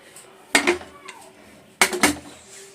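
Dirty pots and dishes clatter in two short bursts of metallic knocks and scrapes, fairly close, with quiet gaps between.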